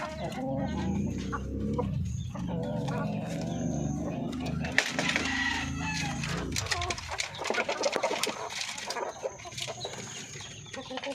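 Breeder hens cluck and chatter steadily in a farm setting, close and fairly continuous, with someone talking over them.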